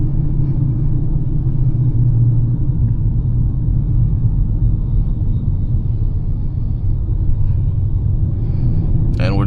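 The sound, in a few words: car driving along a highway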